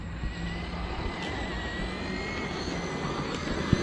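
A Traxxas Maxx RC monster truck's electric motor whines at full throttle on a low battery, a steady high-pitched drone with a faint engine-like hum and a sharp knock right at the end.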